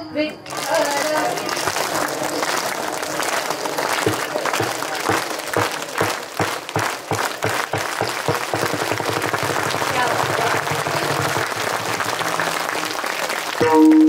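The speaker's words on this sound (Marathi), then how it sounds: "सर्वांची टाळी एक सोबत बोला" A large crowd claps together in a steady, rhythmic beat, loud and close, with general applause before and after the unison claps, at a kirtan devotional gathering.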